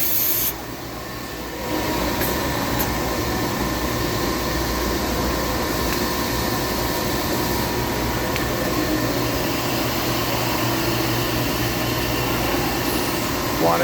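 A Royal Master Gen 5.75 CNC guidewire centerless grinder with air sensing dressers runs steadily. It makes a continuous, dense mechanical rush and hum that barely changes from start to finish.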